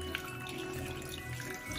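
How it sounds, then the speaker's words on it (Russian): Steady water running and pouring, a continuous close splashing hiss with no pauses. "Возьмем обычную воду и зальем"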